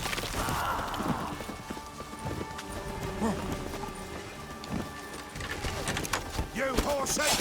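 Horse hooves clip-clop in The Witcher 3: Wild Hunt game amid other game sounds, with a loud burst early and irregular thuds throughout, under occasional speech.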